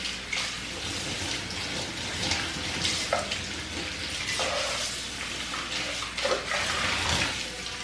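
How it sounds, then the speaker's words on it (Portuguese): New cookware pans being washed by hand with a soft sponge and a little dish detergent, a steady wash of running water and scrubbing with short clattering bumps throughout, close and fairly loud, no talking. "Coloquei um pouquinho de detergente e é só lavar assim."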